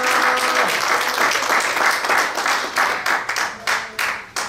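A church congregation applauds, a dense, fairly loud wash of clapping that thins toward the end into a few separate sharper claps.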